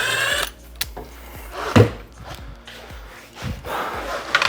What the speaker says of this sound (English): And then we're taking this screw off.